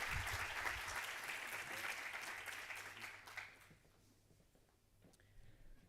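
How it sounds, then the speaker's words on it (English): An audience in an auditorium at a medical cannabis conference in Lisbon applauds a speaker, loud and dense at first and then thinning out and fading to a few scattered claps after about three and a half seconds. "So an applause, please, for SHLOMO"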